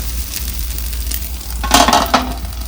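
Paddu batter fries in oil in a covered pan, giving a steady soft sizzle with a few brief metallic clinks near the middle.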